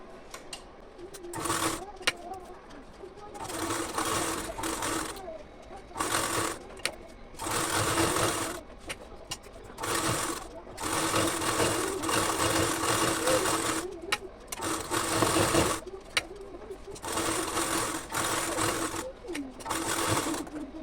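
A sewing machine stitches all the way around a blouse neckline, its motor whirring in steady runs that stop and restart with short pauses.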